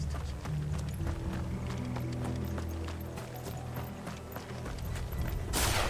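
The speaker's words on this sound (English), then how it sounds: "Get those horses." Horse hooves clip-clop in a steady, quick rhythm in the Final Fantasy 16 video game, layered over low rumbling game sound, ending in a burst of noise.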